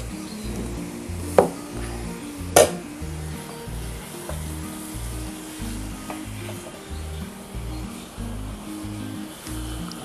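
Chicken rubbed with salt and ginger-garlic paste fries loudly in a pan, a dense close sizzle with a low rhythmic rumble beneath and two sharp clanks of a utensil early on, no voices.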